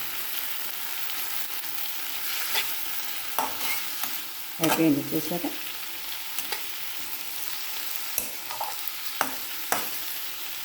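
Tempering for a mint and tomato chutney sizzles steadily in hot oil, with stirring scrapes and occasional sharp pops, and a brief spoken remark partway through.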